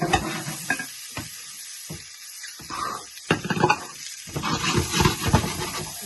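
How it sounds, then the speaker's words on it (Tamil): Mutton chops frying in butter in a pan, with crackling sizzle and occasional scraping stirs, broken by short quiet gaps. "இது பட்டர் எல்லாம் பட்டர் எல்லாம் பொரிக்கிறோம், எண்ணெய் இல்லை"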